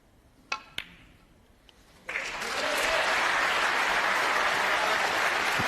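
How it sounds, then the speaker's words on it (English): A snooker crowd bursts into loud sustained applause during a 147 maximum break, preceded by two sharp clicks of balls striking; the clapping swells and holds steady to the end. "Crowd have pause to start getting excited again."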